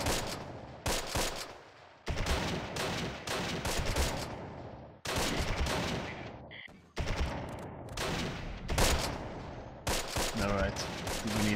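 A Thompson submachine gun fires in the Close Combat war game in repeated rattling bursts, loud and close, broken by short pauses, with a voice occasionally speaking between volleys.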